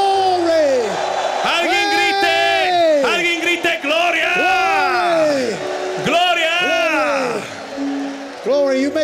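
A church congregation shouts and whoops with joy during a preaching service, many loud, rising and falling voices overlapping in bursts of cheering, filling the room.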